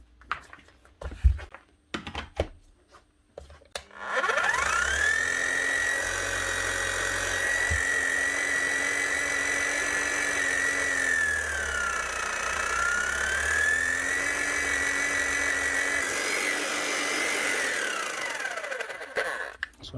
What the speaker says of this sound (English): One Bosch hammer, GSH 5 CE. Up and running again with a new service kit, a few bearings, new grease